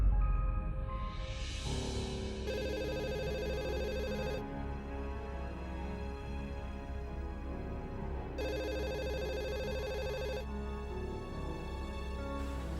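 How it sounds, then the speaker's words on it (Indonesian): An electronic phone ringtone repeats in long tonal bursts with pauses between, steady and clear over a low hum. "Suara telepon."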